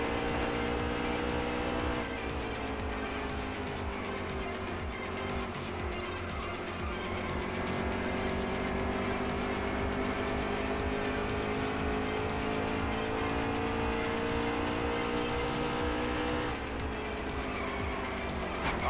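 Stock cars race in NASCAR Heat 3, a loud sustained engine roar with a steady high whine that shifts in pitch as the cars pass, with faint tire noise, no voices.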